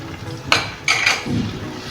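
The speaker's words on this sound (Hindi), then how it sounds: "इसको थोड़ा सा ही भूनना है बस।" Spatula knocking and scraping in a pan while spice masala with green chillies is fried: two sharp metallic clanks followed by a low scraping stir, close up with no talk.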